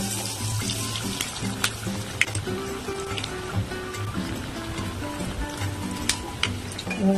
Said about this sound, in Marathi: अशा प्रकारे मी सर्व तळून घेणार आहे.